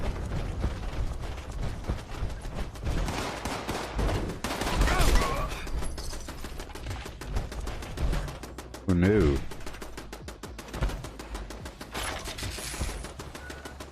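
Turrets firing in the Fallout 76 video game, a continuous rapid crackle of distant gunfire with mechanical ratcheting, while someone talks briefly over it.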